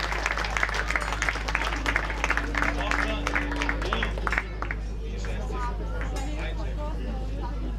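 An audience at the Vitez Fest 2019 concert applauds a national mixed inclusive choir with dense, loud clapping over a steady low hum, then the clapping fades out halfway through and leaves a softer crowd murmur with a voice.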